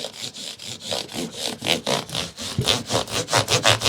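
The frets of a Fernandes ZO-3 guitar are polished with an abrasive, a close, rhythmic back-and-forth rasping scrub with even, quick strokes and no talk.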